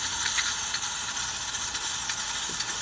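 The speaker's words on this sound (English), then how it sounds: "All right, steam's looking good." Steam hisses continuously from the wand of a Lelit PL41TQE espresso machine, a steady, fairly loud airy rush with a few faint clicks and spurts, and no one talking.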